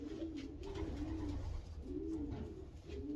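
A racing pigeon coos repeatedly in soft, rolling phrases at a loft, close and steady against a low background hum, with no talk.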